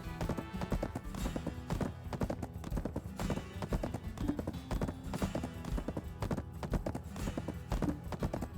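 Hooves of a horse mount clip-clopping steadily in a video game, a brisk, even trot of sharp close hoofbeats repeating throughout, loud and unbroken, over faint background tones.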